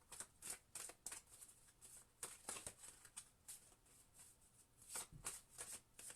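A deck of tarot or oracle cards is shuffled by hand for a card pull reading, giving repeated close riffling bursts in an irregular rhythm, soft and crisp, with no talking.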